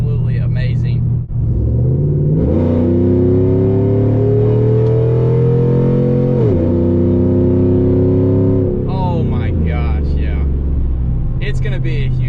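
Pickup truck fitted with a full exhaust and tune accelerating, a deep loud rumbling engine note that rises through long pulls with shift breaks, heard close up from inside the cab, with a person talking over it.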